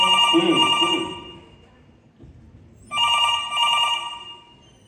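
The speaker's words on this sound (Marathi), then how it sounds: "फोन घे" A telephone rings twice with a bright electronic trill, a pause between the rings, and a voice heard briefly during the first ring.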